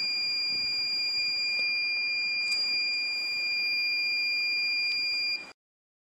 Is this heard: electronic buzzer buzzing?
yes